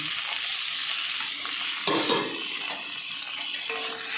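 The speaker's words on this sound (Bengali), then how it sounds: "এবার এই কচুর লতিটা ওই তেলের উপরে দিয়ে দিলাম" Taro stolons drop into hot oil with a sharp burst of sizzling near the two-second mark, then keep crackling steadily as they are stirred, with a faint scrape of a spatula against the pan.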